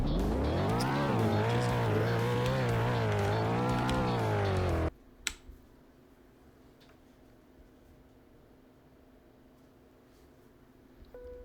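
Car engine in the Friendly Escape Rooms game revving loudly with rising and falling pitch as it drives off, then cutting out abruptly halfway, leaving a quiet room tone with a couple of small clicks.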